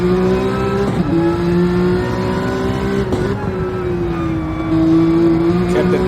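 Porsche race cars on soft tires roaring around a circuit, a loud, close engine note holding high revs with short dips at shifts and a faint tire squeal, no voices over it.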